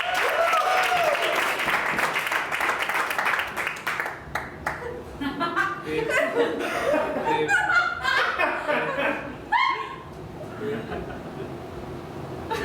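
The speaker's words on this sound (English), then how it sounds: "let's get them started with a big round of applause." Audience at an interactive improv comedy show breaks into a burst of applause mixed with chuckles and laughter, loud at first and then thinning into scattered claps and giggles with a few voices underneath.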